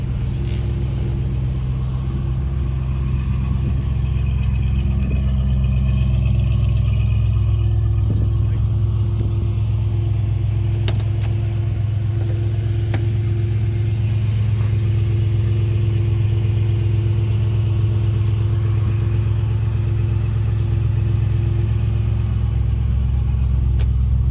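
A 1965 Ford Mustang Fastback engine drones with a steady, deep rumble throughout a ride, heard from inside the car with mild swells in revs and no one talking.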